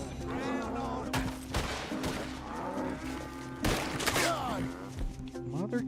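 Gunfire from people shooting in Red Dead Redemption 2, with a rapid scatter of sharp cracks in bursts over busy game sounds, including animal noises and hoofbeats, with voices talking in between.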